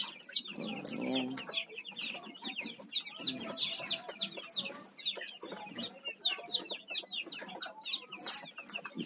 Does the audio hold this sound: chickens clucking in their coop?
yes